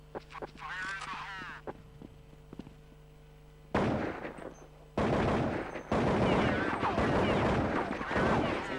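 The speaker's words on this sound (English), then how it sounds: "Shots coming in" Counter-Strike 1.6 gunfire in a competitive semi-final match between fnatic and Lions comes in loud, dense bursts of shots, with live esports commentary talking over the action.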